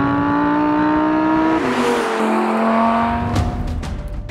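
Audi R8 V10 Spyder engine holding a loud, steady high rev with a rising and shifting harmonic tone, close and alone with no talk.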